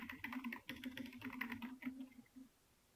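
Fingers typing on a computer keyboard during a Python coding lesson, a close, quick run of soft key clicks for about two seconds that ends with a single keypress, and then the clicking stops.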